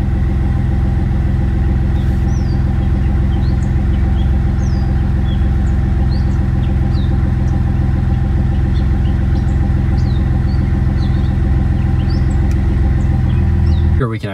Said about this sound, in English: Now, let's start the engine.